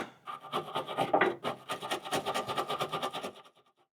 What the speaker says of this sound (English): I'm just gonna hit this with the wire brush